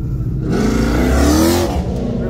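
Ford F-150 5.0 on E85 with four-wheel drive and a BMW X5 40i xDrive launching side by side in a dig race from a light, a loud steady engine roar rising as they pull away.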